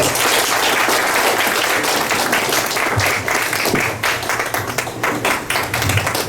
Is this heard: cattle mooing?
no